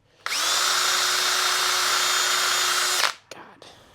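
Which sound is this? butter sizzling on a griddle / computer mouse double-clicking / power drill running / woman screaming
power drill running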